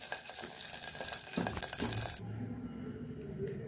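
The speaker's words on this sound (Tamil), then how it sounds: "இப்போ தண்ணி விடுறோம்" Water is poured into a hot pan of rice upma. A bright sizzling hiss swells and bursts, then drops to a quieter low bubbling as the pan settles.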